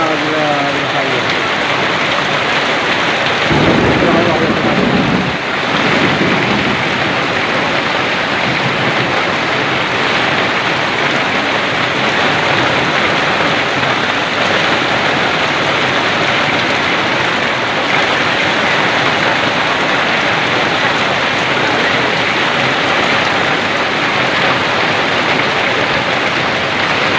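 Heavy rain and a wind storm pour down steadily during flooding, with water overflowing a gutter. The rush of rain stays loud and constant throughout, with a brief rougher splash of water early on.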